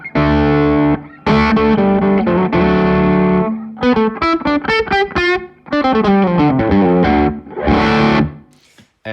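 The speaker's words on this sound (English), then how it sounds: "So here's how the stonk box sounds dry." A dry electric guitar plays through a Stonk Box fuzz pedal, loud and close. Thick distorted chords give way to quick single-note runs and then return to heavy chords before ringing out.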